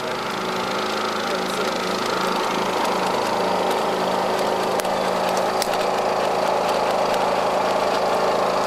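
A steady, loud motorized drill grinding continuously into a black rhino's horn, with a rough buzzing whine that holds throughout.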